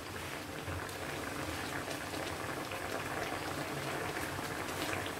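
Fried chicken pieces simmer in a cream sauce for a basil and sun-dried tomato chicken dish, giving a steady, dense bubbling and soft popping that stays even and close throughout with no talking.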